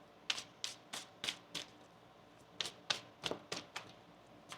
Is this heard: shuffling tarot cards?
yes